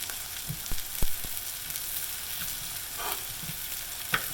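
Chopped onions cook in a pan for Cuban black beans with chicken, giving a continuous close sizzle. Occasional clicks and knocks of stirring sound through it, and no one speaks.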